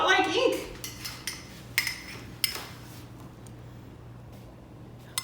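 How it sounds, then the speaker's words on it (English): Homemade 16th-century-style quill ink is stirred in a small dish, with a series of light clinks and scrapes of a utensil against the dish, brisk at first and then thinning out, close and fairly quiet. "Stir and stir and stir."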